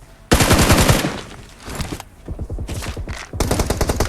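Automatic gunfire in the PUBG Mobile battle game, with a loud close rapid burst, a pause, then several shorter bursts of fast shots, with no talk over it.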